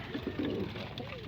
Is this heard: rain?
no